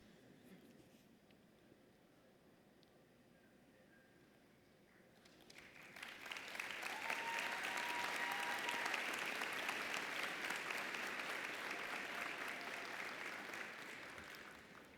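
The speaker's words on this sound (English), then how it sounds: "another round of applause" Commencement ceremony audience bursting into applause, faint room tone giving way after five seconds to loud, sustained clapping from a large crowd with scattered cheers, tapering slightly at the end.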